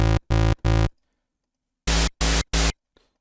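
Three short TAL NoiseMaker synth notes on a triangle wave sound, then after a pause three more with a harsher, noisier, changed oscillator waveform; solo electronic tones with no voice.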